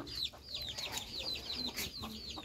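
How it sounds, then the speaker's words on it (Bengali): Hens and newly hatched chicks cluck and peep close by, with rapid high chirps repeating over a steady run of clucks throughout. "দেখো সবাই আমার শাশুড়ির মুরগির বাচ্চা ফুটছে, 5টা ফুটছিল বুঝছো"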